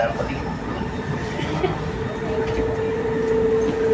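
A metro train rolls past with a continuous rumble, and a thin wheel squeal rises near the end, with people chatting over it.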